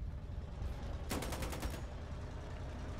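Naval gunfire from the war game Foxhole: a single rapid burst of several quick shots lasting under a second, standing out clearly above a steady background rumble, with no talking.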